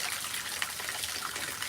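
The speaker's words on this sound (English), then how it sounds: "Get some water pouring off my roof." Rainwater pours off the edge of a roof that has no gutters, a continuous splashing gush of water striking the ground nearby, loud and steady without talk.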